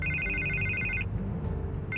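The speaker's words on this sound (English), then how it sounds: "I can't get the phone to stop ringing." A telephone rings in Batman: The Telltale Series, an electronic trilling ring that stops after a second and starts again near the end, over a low steady background rumble.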